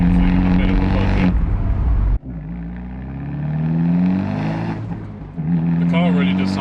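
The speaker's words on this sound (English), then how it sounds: "The car really does sound good for a 4-pot." Abarth 124 Spider four-cylinder engine and exhaust, a loud rasping rev cutting off abruptly, then a rising and falling engine drone that swells and fades before picking up again near the end.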